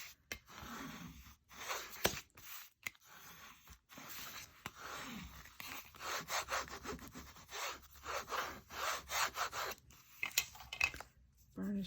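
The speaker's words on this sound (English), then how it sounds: "Burnish that down." Paper being burnished down onto a glued bird collage, giving soft rubbing and scraping strokes in irregular bursts, close and quiet, with brief speech mixed in.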